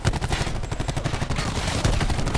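Dense, rapid first-person shooter gunfire, continuous overlapping shots forming a loud, close barrage throughout.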